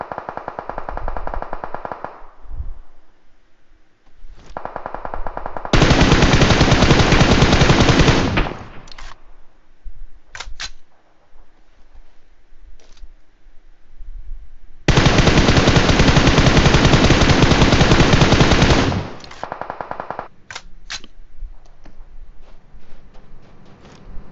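Bursts of automatic gunfire in PUBG Mobile, two long loud sustained volleys of several seconds each, with scattered single shots and quieter shooting between them, close and dominant.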